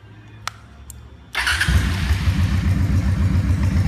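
A 2003 Honda Shadow 750 motorcycle with 21,000 miles cranks and fires up after a couple of clicks, settling into a loud, close, lumpy idle.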